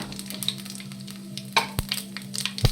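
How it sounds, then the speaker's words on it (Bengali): Dried red chillies crackling in hot oil in a pan, a low steady sizzle broken by several sharp pops and crackles, some louder near the end, heard up close without talk. "লঙ্কাটা একটু ফাটিয়ে দিচ্ছি"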